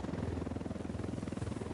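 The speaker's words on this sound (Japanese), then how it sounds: "ヘリ来てるよ。" A helicopter in the tactical shooter Ghost Recon Wildlands, its rotor chopping in a steady rapid thump, fairly loud and sustained with no talk over it.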